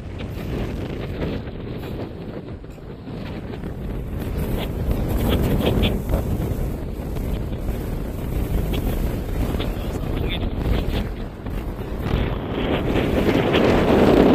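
Wind buffets the microphone in a steady low rumble on a golf course, with faint voices underneath and gusts rising toward the end.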